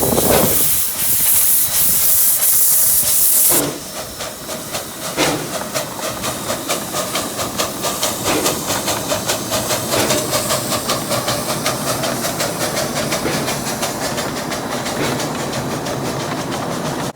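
Steam locomotive number 2 at the Hesston Steam Museum pulls away with open-air coaches, a loud hiss of steam giving way to rapid, rhythmic chuffing as the driving wheels slip, then a steady clattering exhaust beat close by.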